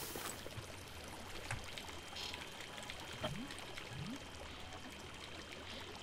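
Water placed in the Minecraft video game flows with a steady, faint, continuous rushing pour that lasts throughout, with a couple of brief sounds breaking through it.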